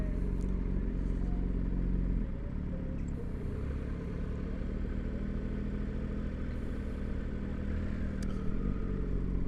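Triumph Tiger motorcycle engine running steadily on a ride home through the Lake District near Bowness on Windermere, a close, continuous mid-pitched rumble with a slight dip in intensity partway through.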